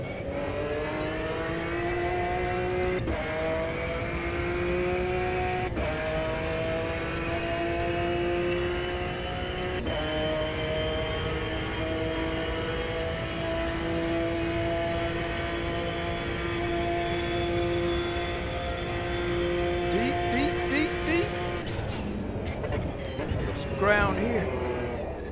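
McLaren F1 GTR race car in Automobilista 2 at Hockenheim Historic 2001 roars through repeated upshifts, engine pitch climbing and dropping in steps, then revs rising and falling toward the end, with a voice talking over it.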